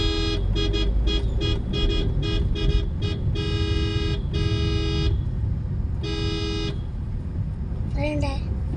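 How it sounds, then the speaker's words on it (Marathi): A car horn honks again and again from behind in stopped Navi Mumbai parking-lot traffic, in sharp repeated toots and longer blasts over a steady engine and street rumble, with voices talking in the background. "पाठून हॉर्न मारत होता नुसता."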